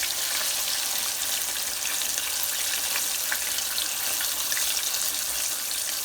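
Thin halloumi chips fry in hot oil with a loud, dense, continuous hiss and crackle, the pan shaken slightly beneath the even sizzle.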